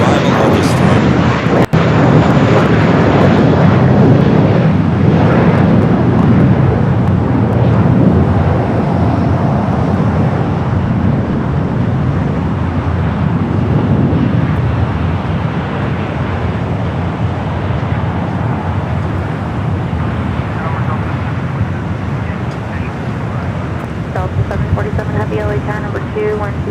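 A British Airways airliner takes off at LAX, a loud sustained jet roar that swells early and slowly fades over nearly half a minute, with faint radio talk near the end.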